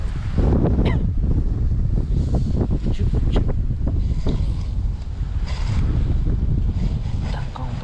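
Strong, gusting wind buffets the microphone on a cold winter lake in Korea during bass fishing, a loud continuous low roar with rushing surges and faint water lapping throughout, no voices.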